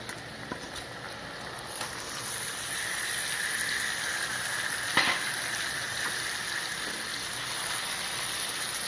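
Chicken pieces fry in a pan with browned onions for a local chicken curry, giving a steady, close hiss and sizzle with an occasional faint clink, and no talking.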